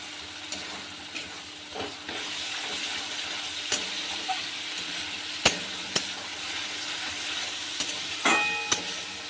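Four slit green chillies fry in hot oil with spices for a hilsa fish dish, giving a continuous sizzle broken by sharp spatula taps and scrapes against the pan.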